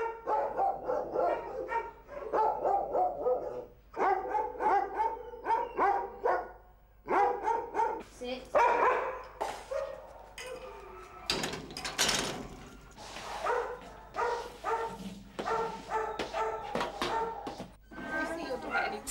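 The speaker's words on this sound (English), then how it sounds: "The home has taken in more than 300 dogs over a period of just a few weeks." Dogs at a rescue home bark in short, repeated bursts, some close and some farther off, under steady talking, with a rattle like a sliding door partway through.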